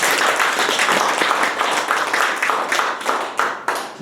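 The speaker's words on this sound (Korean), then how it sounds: "박수 한번 쳐." A crowd at a lecture on anti-corruption claps together in dense, rippling applause that runs steadily before thinning out into scattered claps near the end.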